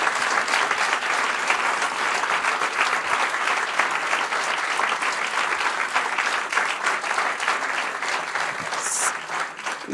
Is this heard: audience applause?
yes